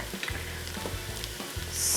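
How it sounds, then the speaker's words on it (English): Onions sautéing in a pan on the way to golden, a close, even sizzle with faint stirring knocks, swelling slightly louder at the end. "sautéing them until they're golden"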